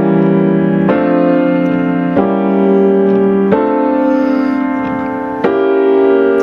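Piano plays locked hands chords for a song, alternating sixth and diminished chords. Four ringing, sustained chords are struck at a slow, even pace, loud and close, with no talking.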